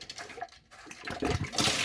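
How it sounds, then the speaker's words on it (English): Contaminated water poured out of a container in an outdoor filter-cleaning routine, a splashing, gushing pour that swells louder and hissier toward the end, close by with no talk. "Dump out yesterday's water that is terribly contaminated."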